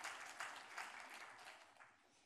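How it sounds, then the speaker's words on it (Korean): A church congregation claps to welcome a newcomer, a quiet, brief patter of many hands heard from a distance that fades out within a couple of seconds. "박수로 환영합니다."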